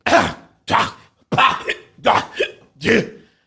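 A voice imitates coughing with five short, harsh bursts in a loose rhythm, close and fairly loud.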